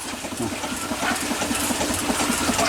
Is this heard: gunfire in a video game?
no